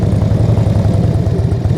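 A motorcycle held at low speed through a tight U-turn in a confined space, its engine putting out a loud, steady low idle-like rumble with no break.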